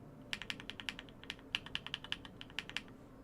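Keys on an inductive keyboard with its first switch type are struck in a quick, uneven run of sharp, crisp clicks, close and fairly quiet, with no voices.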